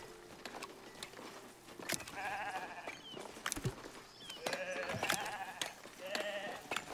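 Sheep bleat repeatedly in the Foundation village-building game, several calls overlapping at moderate distance among scattered clicks and soft patter.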